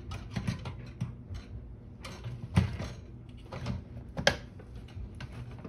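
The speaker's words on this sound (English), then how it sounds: "so that's both GPUs plugged in" Two graphics cards being pushed into motherboard slots on a high-end 2015 gaming PC with an SLI setup, giving a few sharp plastic clicks and clacks over soft handling noise.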